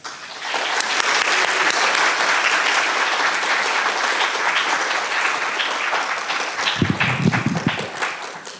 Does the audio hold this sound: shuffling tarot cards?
no